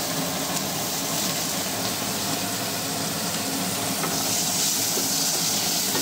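Onion sizzling in hot oil with black cumin in a kadai, a loud, steady frying hiss that fills the whole clip with no pauses.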